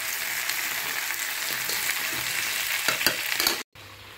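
Peanuts, cashews and raisins fry in a hot pan with a steady close sizzle and some stirring, cutting off abruptly near the end.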